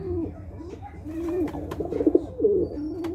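A blue bar pigeon coos in low, rolling calls, several bursts in a row close by, with faint background rustle between them.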